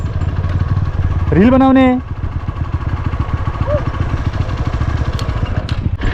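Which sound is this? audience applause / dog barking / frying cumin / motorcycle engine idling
motorcycle engine idling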